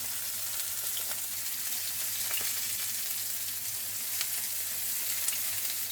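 A steady, gentle sizzle of salted mushrooms frying in a pan, with soft crackles and occasional pops over a constant hiss.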